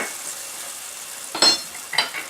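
Grated ginger goes into hot oil for spiced rice with lentils, giving a soft background sizzle and then two short, close bursts of sizzling and stirring.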